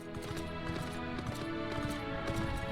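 Horse hooves clip-clop at a steady walking rhythm in a video game, close and clear with no talk.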